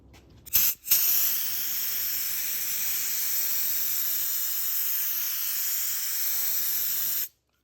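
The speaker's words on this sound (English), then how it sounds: "I kind of force dry it with a blowgun." An adjustable air blowgun force-drying glue on a mosaic guitar rosette gives a short burst, then a long, steady, loud hiss that cuts off abruptly near the end.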